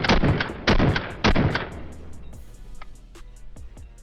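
Rapid bursts of rifle gunfire from a rifle fitted with a Geissele SSP flat trigger, three loud close strings of shots followed by fainter scattered shots and echoes from other shooters.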